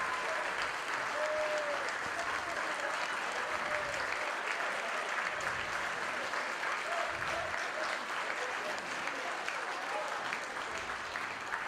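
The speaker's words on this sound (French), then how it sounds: "Alors, une bonne main d'applaudissements, monsieur, de son côté patriote." Sustained applause from a crowd at a patriots' dinner honouring a late politician, a steady dense wash of clapping that holds evenly for the whole stretch, fairly loud and uninterrupted.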